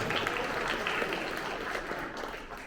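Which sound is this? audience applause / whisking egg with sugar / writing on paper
audience applause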